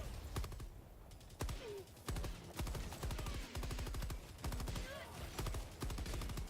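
Gunfire in the shooter Helldivers 2 comes as rapid automatic bursts of sharp cracks, stopping and restarting in short volleys, loud and close, with short pauses between strings of shots.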